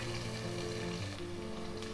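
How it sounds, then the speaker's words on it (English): Onions fry in a pan with a continuous, faint sizzle and crackle, heard close and steady with no voices. "While the onions are frying"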